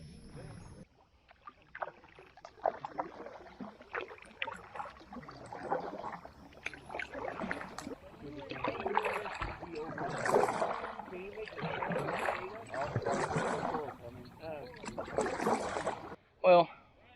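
A kayak is paddled on Doe Lake, with soft repeated strokes and watery gurgles that swell and fade in a loose rhythm, close by, ending with a sharp knock.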